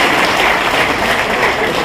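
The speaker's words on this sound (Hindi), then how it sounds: "मैं चाहूंगा आपके लिए जोरदार तालियों से अभिनंदन हो" Loud, sustained applause from an audience at a Gorkha community gathering in honour of a state party president, steady dense clapping filling the whole moment with no pauses.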